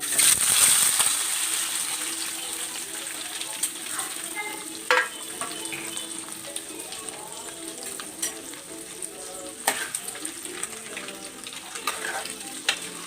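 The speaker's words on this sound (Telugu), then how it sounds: "ఇప్పుడు ఫస్ట్ నేను ఏం చేస్తానంటే ఎగ్ పీసెస్ ఉన్నాయి కదా, ఇవి నేను ఫ్రై చేసేసుకుంటాను." Pieces of boiled egg fry in hot oil with a steady, close sizzle and hiss, broken by occasional sharp clinks and scrapes as a spoon turns them, with no talking.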